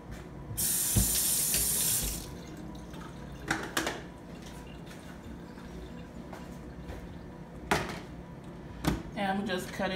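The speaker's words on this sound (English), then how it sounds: "I'm just rinse this off." A kitchen sink tap runs at full flow as shrimp are rinsed, a steady splashing rush for a couple of seconds, followed by clatters and handling noises with a person talking.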